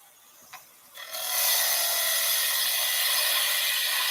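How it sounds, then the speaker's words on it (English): A tool cuts across the bottom of a wooden workpiece spinning on a lathe. After a faint tap it rises into a loud, steady, hissing scrape that continues close and unbroken to the end. "I'm going to find out how much wood I have available by just making a clean cut across the bottom"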